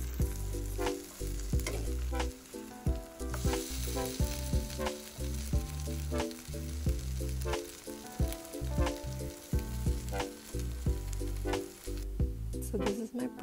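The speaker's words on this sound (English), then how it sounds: "So it was really nice to hear the sizzling sound of the oil." Oil sizzles steadily under a tuna pancake frying in a pan, a dense crackling hiss with occasional sharper pops and stirring scrapes, close and continuous, with musical tones playing underneath.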